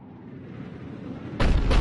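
A Cerberus cannon in Mass Effect 3 fires a single heavy, booming blast near the end, loud and broad after a low rumbling buildup, with no talk over it.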